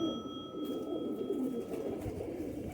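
A Sialkoti pigeon coos softly in a low, rolling murmur that runs steadily through the short stretch, close and fairly quiet with no talking.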